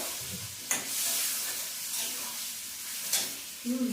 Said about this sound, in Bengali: এবারে ভাজা ভাজা হবে, ভাজা ভাজা হবে।